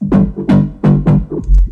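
A run of short, punchy bass notes with a hollow, vowel-like vocoded character, played in a choppy rhythm, loud and upfront.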